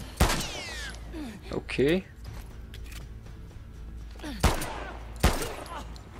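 Gunfire in The Last of Us Part 2: several sharp, loud shots spread irregularly across a few seconds with rattling mechanical clicks between them, while a voice speaks briefly.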